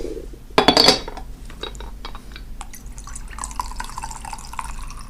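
A small pot of brewing green tea stirred with a utensil, giving a loud clinking scrape at first, then softer liquid swirls and light taps against the pot, close by.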